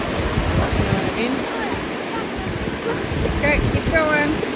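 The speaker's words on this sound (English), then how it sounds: "See that waterfall coming out there?" A small waterfall rushes steadily along a hiking route, a broad continuous roar mixed with wind buffeting the microphone, with a few faint voices in the background.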